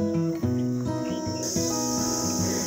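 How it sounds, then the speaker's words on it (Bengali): Crickets chirping in daytime in the quiet Darjeeling hills, a continuous high-pitched trill that grows stronger partway through, mixed with other steady tonal sounds. "বেশ একটা দিনের বেলাতেও ঝিঝি ডাকছে"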